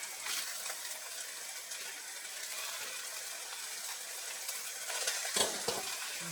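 A faucet runs as dishes are rinsed in a home kitchen, a steady, moderate gush of water with a brief clatter and splash near the end.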